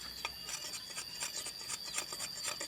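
Sandpaper rubs back and forth on a wooden machete handle in steady, rhythmic rasping strokes, close up, with no talk over it.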